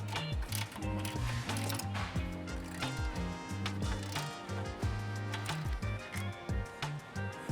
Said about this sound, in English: We're gonna be using a 12mm socket to do that.